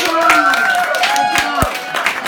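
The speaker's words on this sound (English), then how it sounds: "Let's clap for our bird, Floyd." A show audience claps for a performing parrot, scattered hand claps breaking through while someone talks loudly over them close to the microphone.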